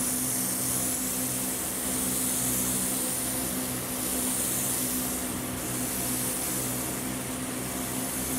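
Steady, loud spray-gun hiss while painting body parts of a 1999 Harley FLHR, a continuous airy rush with slight swells in intensity, with no talking.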